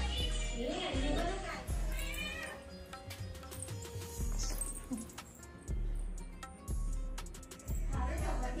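A pet cat at a village home in the Konkan region gives a few drawn-out meows amid household noise and people talking nearby.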